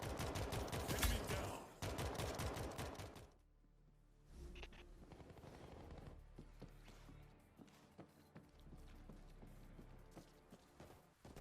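Gunfire in the zombie shooter World War Z: loud rapid bursts up front, then scattered sharper shots popping at a distance over a low rumbling backdrop.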